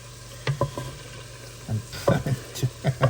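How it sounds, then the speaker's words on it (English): Food sizzling and frying in a pan for Puerto Rican rice and beans, with a steady hiss and a series of sharp stirring and spatula clatters spaced through the moment, fairly close. "Turn the pan to the side, let them fry."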